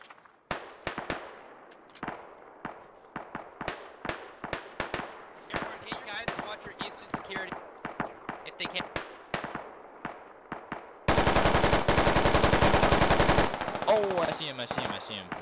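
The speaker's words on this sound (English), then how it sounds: "it sounds like Bravo's taking shots at him" Video game Squad battle: dense bursts of rifle and machine gun fire from nearby teammates crackle in rapid volleys, then a sustained roaring automatic burst, with players talking over the shooting.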